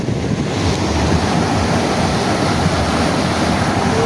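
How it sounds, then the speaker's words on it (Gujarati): Continuous rushing water flowing in a canal, a broad steady roar with some wind buffeting, close and loud with no breaks. "કેનાલ ચાલુ છે અહીંયા."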